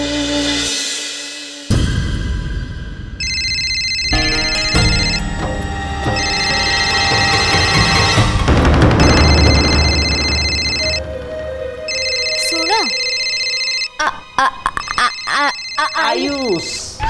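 A telephone rings in repeated electronic bursts, several ring cycles separated by short pauses, loud and close within a domestic drama scene, with other room sounds and movement around it.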